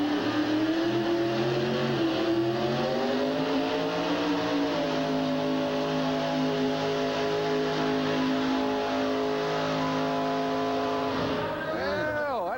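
A monster truck engine at a 1989 USHRA event in Hartford, roaring under heavy load while pulling a tractor, its pitch rising and falling through long sustained revs before a sharp shift near the end, loud and continuous.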